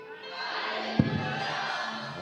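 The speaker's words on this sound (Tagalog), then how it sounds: "mangyari lang sumigaw ng hallelujah" A church congregation shouting hallelujah in unison, a loud collective roar of voices that swells sharply with a thump near the middle and then holds as a sustained crowd shout.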